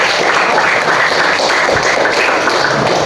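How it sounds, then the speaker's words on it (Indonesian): Classroom applause during a modal verbs English lesson, a steady wash of many hands clapping that holds evenly for about three seconds with no talk over it. "benar sekali, tepuk tangan buat semuanya."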